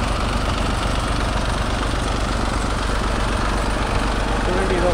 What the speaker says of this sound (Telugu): ఇక్కడ ట్రాక్టర్లు అయితే రన్ అవుతున్నాయి,